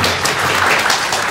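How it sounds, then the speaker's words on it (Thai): A seated audience claps in a steady, dense wash of applause at a panel discussion on a full-scale emergency exercise at Sakon Nakhon Airport. The sound is loud and sustained for the whole moment, with no speech over it. "ปรบมือหน่อยค่ะ"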